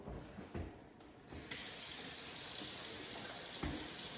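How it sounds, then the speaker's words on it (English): Red Wing Beckman 9011 boots in Black Cherry Featherstone leather are rinsed under a tap. After a second or so of quiet handling, a steady, close stream of running water starts and continues evenly to the end. "So first thing I'm gonna do is just kind of rinse them off first"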